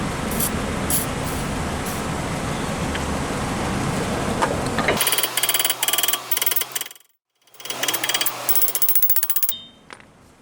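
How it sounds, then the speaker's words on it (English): A spray can hisses onto a car's drum brake during inspection and adjustment, a dense airy rush for several seconds, then sharp ratcheting clicks and mechanical clatter with brief gaps. "There's a little spritz."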